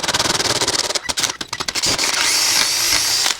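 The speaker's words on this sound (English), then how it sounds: "Now we have to get this bored out to something similar to that one." Power drill boring out a metal part during dozer maintenance, loud and close with a pulsing stuttering run that breaks up, then steadies into a continuous high grinding whine before stopping.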